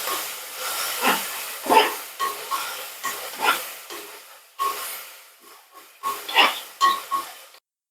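Onion and a large tomato sizzle and hiss as they fry together in a pan for a vegetarian curry, with a steady crackle that swells in repeated bursts, close and alone.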